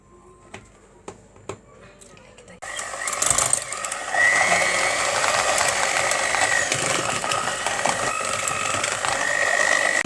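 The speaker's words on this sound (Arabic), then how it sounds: "واضرب بقى الكلام ده كله بالمضرب لغاية" Electric hand mixer beating ghraybeh cookie dough, a steady close whirring drone that starts after a few light clicks and runs on continuously.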